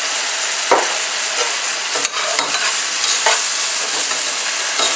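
Lamb browns in a hot pan with a steady, close sizzle and frying hiss, broken by several scraping stirs of a utensil against the pan, with no talking.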